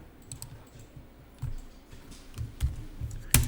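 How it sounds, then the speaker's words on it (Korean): Computer keyboard keys tapped while entering accounting data, a few quiet scattered clicks with one sharper keystroke near the end, close and soft with no talking. "여러분은 이걸 타자하시면 되겠죠."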